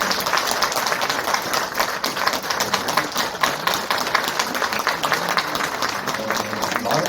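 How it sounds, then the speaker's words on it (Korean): An audience at a book relaunch ceremony in a hall gives a sustained round of applause: dense, steady clapping from many hands that fills the whole stretch at an even level. "우리 세 분께 다시 한번 큰 박수 한번 부탁드립니다"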